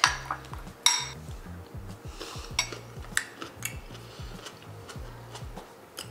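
Food being mixed with salt and olive oil in a bowl, a quick rhythmic scraping and clinking of a utensil against the dish, with a few sharper knocks, close by and no talk.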